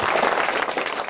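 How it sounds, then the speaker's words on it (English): A crowd at a young artists' showcase applauds in a brief, full burst of clapping, dense and even throughout, close and fairly loud, with nothing else heard over it. "So I would like to give them a big round of applause."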